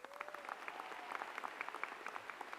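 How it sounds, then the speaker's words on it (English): A university convocation audience gives a jazz quartet a round of applause. The clapping is faint and distant, with scattered sharper claps over a soft background, and a brief tone drifts through the start. "full round of applause."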